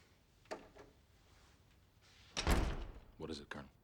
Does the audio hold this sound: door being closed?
yes